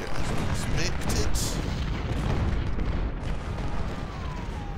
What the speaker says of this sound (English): Coming in down here, that's the artillery.